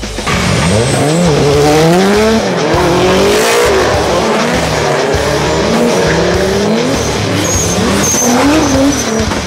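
Cars street drifting at night in Osaka, with loud, sustained tire squeal layered over rising and falling engine revs that stay close and continuous throughout.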